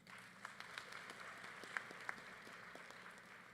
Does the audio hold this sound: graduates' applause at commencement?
yes